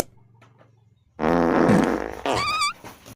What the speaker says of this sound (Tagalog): Utot ka ng utot dyan te.